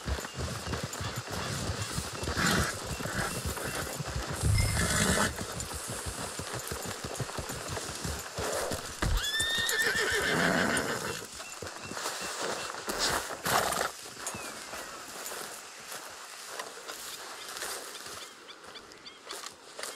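Horses in the Red Dead Redemption 2 video game, with hooves clopping and a whinny amid outdoor ambience and some engine-like rumble, continuing steadily at moderate volume.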